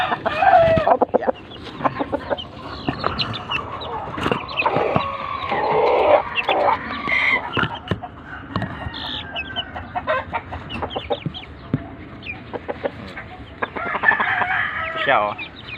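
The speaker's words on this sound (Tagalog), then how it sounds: "malaking manok." A large chicken clucks and crows close by, loud and steady for the whole stretch, with farmyard background noise underneath.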